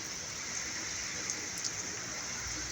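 Steady rain pours down in Saudi Arabia, a dense, even hiss of drops hitting surfaces nearby, continuous and uniform throughout with no voices.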